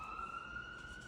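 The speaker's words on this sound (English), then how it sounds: "And that siren, that be Archangel Michael peeping in, okay" A faint, distant siren holds a steady wailing tone for about a second, alone with no talk over it.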